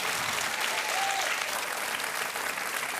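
A studio audience on a televised quiz show applauds steadily, a dense even clapping that holds for several seconds without pause.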